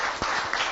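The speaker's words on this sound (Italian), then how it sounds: "fategli un applauso" Brief burst of dense audience applause at a local community event, a loud wash of many hands clapping together with no clear individual claps.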